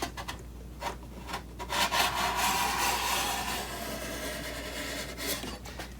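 A Stanley 95 hand plane takes thin shavings across wooden end grain in long, rasping strokes, close and fairly quiet with short pauses between passes.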